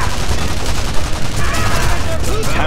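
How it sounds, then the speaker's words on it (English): Dense, loud machine gun fire rattles continuously in Sniper Elite V2, a steady wash of rapid shots with occasional tonal ricochet-like whines and faint voices underneath. "machine gun"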